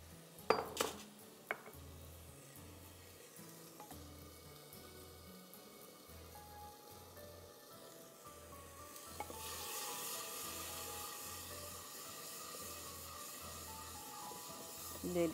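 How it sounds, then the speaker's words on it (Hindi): Ginger garlic masala with onion sizzling in a pot while being stirred, soft frying hiss and occasional scrape and clink of a spoon against the pot, moderately faint, with a steady low hum beneath and a brief louder knock early on. "इसको मैं कम से कम 5-7 मिनट भूनूंगी, जब तक कि इसका मसाले का अदरक लहसुन का कच्चापन ख़त्म हो जाए।"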